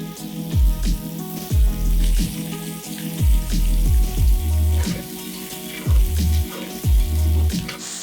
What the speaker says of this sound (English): Mushrooms are gonna drink up the olive oil, then they're gonna release their water into the pan